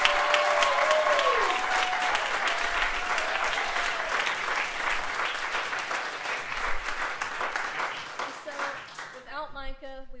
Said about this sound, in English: So can we please give Micah a round of applause?